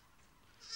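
A young goat gives a short, faint bleat that rises at the end, set against quiet farmyard background with no talk.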